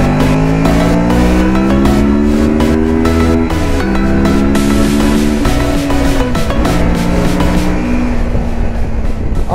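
2019 Kawasaki Versys 650 motorcycle engine accelerating smoothly, loud and close, its pitch rising steadily through several gear changes with steady wind rush throughout.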